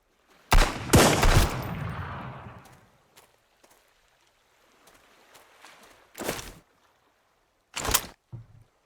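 Enemy black powder gunfire in the survival game SunkenLand, a loud nearby volley of cracks with a rumbling tail, then a few sharp single shots spaced seconds apart amid quiet.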